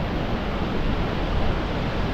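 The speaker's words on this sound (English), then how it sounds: "that wind is really hampering" Strong, constant coastal wind on the north coast of Fuerteventura by the sea, a dense roaring buffet against the microphone with no other sounds breaking through.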